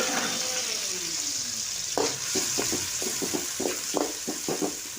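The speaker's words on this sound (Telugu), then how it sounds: "ఆనియన్స్ ఇలా బాగా కలుపుకుంటూ కలర్ చేంజ్ అయ్యేంత వరకు కలుపుకుంటూ ఉండాలండి" Onions being stirred and fried in a pan for chicken curry: a steady close sizzle with a run of short spatula scrapes and clanks through the second half, no voices.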